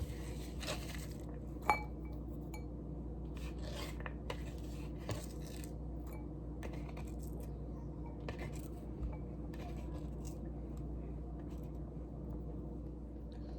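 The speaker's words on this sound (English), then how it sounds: "you're gonna wanna put the onions in there" Chopped onions are stirred into olive oil in a bowl, giving faint, scattered clinks and light scrapes of utensil on dish over a quiet, steady room background, with no voices.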